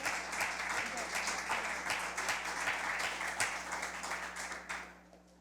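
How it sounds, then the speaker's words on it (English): A school science quiz audience gives a round of applause, dense steady clapping from many hands that fades out toward the end. "Please give them a round of applause."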